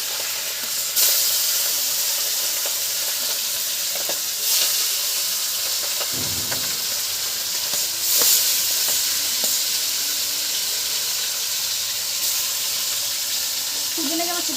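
Pieces of pangas fish fry in hot oil in a wok, giving a loud, continuous sizzle with occasional sharper crackles and faint stirring sounds throughout.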